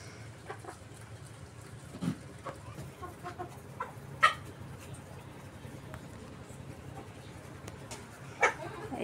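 Chickens in a rain-soaked backyard coop give occasional clucks over steady low background noise, with a few sharper calls standing out now and then.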